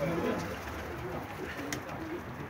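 Pigeons coo softly and repeatedly at moderate distance, with steady background noise and no clear speech, in a setting where racing pigeons are kept.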